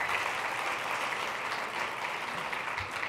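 Audience at a conversation event with a NYT columnist breaking into a round of applause, a dense, even clapping that holds steady throughout at moderate distance, with no talk over it.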